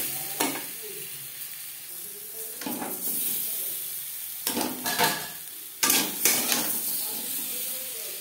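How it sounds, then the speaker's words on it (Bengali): Boiled potatoes being lightly fried in a pan with turmeric and salt, a low sizzle broken by several bursts of spatula scraping and stirring against the pan. "আলু আমি হালকা করে ভেজে নেব"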